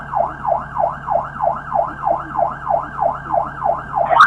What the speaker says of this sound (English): shut that siren off on 104's car